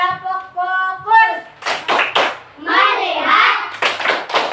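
Schoolchildren do a short patterned unison clap in class, quick rhythmic claps mixed with their chanted voices and a teacher speaking, close and fairly loud.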